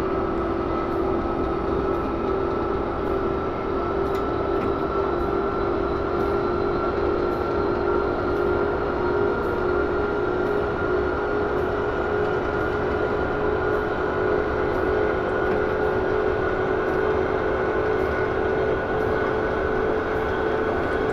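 A BR 442 electric multiple-unit train runs at speed in a Train Simulator game, giving a steady, continuous rolling rumble and motor hum with faint rhythmic clicks of wheels over rail joints, with no talk.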